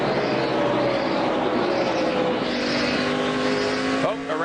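A NASCAR race car spins out on the track at the 2005 Bashas' Supermarkets 200, with a loud, continuous engine roar and shifting whine. A sharp squeal comes near the end, and a voice talks over it.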